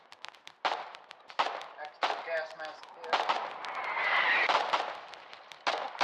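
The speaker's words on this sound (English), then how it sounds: "a Warden foxhole under construction taken down by the Colonial howitzer fire" Colonial howitzer artillery in a war video game fires and lands as repeated sharp distant booms and cracks at irregular intervals, with a sustained rumble building in the middle.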